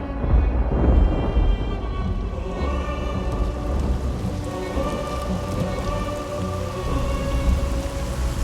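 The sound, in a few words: heavy rain with thunder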